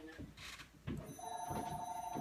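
A telephone answering machine rings loudly with a continuous electronic trill, beginning about a second in and lasting to the end, over faint background noise.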